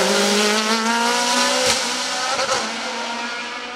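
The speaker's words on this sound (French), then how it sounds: "Alban Thomas, qui prend par la même occasion la 9e place du scratch au volant de sa Norma M20 FC 2 litres." Norma M20 FC 2-litre race car at the Bagnols-Sabran hill climb, a loud, close, high-pitched engine howl that holds steady and then eases slightly as the car passes.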